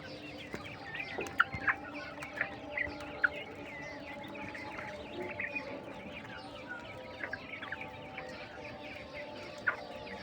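Many king quails chirp and cluck continuously in a busy chorus, with occasional louder sharp calls standing out. No one speaks.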